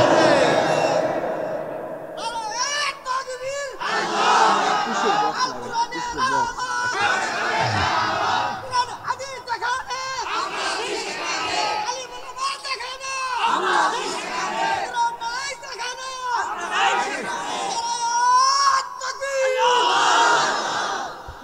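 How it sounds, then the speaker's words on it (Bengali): A large gathering at a religious sermon chants takbir in unison, loud massed voices swelling and pausing in repeated waves across the whole stretch, close and reverberant with crowd chatter between the calls. "তো হাত তুলে আল্লাহকে দেখে লিল্লাহে তাকবীর।"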